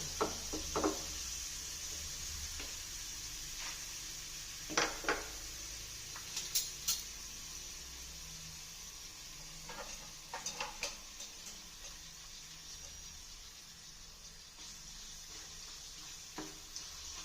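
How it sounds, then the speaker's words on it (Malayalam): Papadam fries in hot coconut oil with a steady, faint sizzling hiss. Scattered small ticks and pops come at irregular intervals, and no one talks. "വെളിച്ചെണ്ണ ചൂടായി തോന്നുന്നു നമുക്കിത് വറുത്തെടുത്താലോ"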